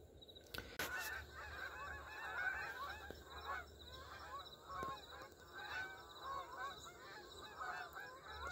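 A large flock of geese honks continuously at a distance as it takes off from a field in South Carolina in September, many overlapping calls under faint outdoor noise.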